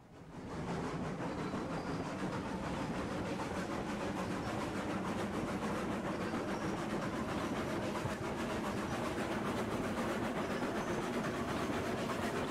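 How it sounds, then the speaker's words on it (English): A train rolls along rails in the railroad-building game Railroads Online, a steady, continuous rumble with faint clickety-clack that holds at an even level throughout, with no voices. "We're getting a train."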